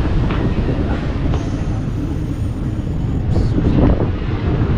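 The Coimbatore Intercity Superfast Express runs past as a loud, steady rumble of rolling wagons mixed with wind buffeting the microphone, sustained without a break.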